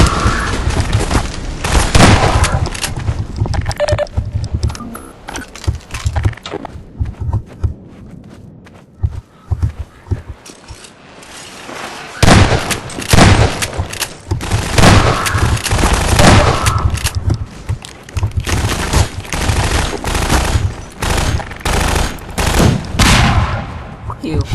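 Gunfire in the video game Half-Life 2: Lost Coast, loud repeated bursts and booms with footsteps running through most of the stretch, easing briefly in the middle before heavy shooting resumes, with someone speaking at times.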